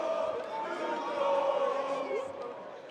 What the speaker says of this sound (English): Crowd coming alive right here